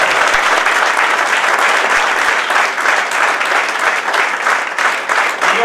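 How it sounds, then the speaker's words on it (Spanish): Dense, steady applause from an audience at a Ciudadanos party candidacy presentation in Puerto de la Cruz, loud and continuous with no letup, a close wash of many hands clapping at once. "Por eso les voy a pedir para todos ustedes un fuerte aplauso."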